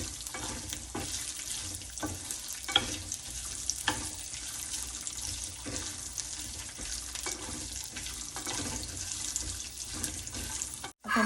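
Freshly chopped wet coconut sautéed in a pan for a bottle gourd peel chutney gives a steady, close frying hiss with scattered soft clicks and scrapes throughout, and no voices.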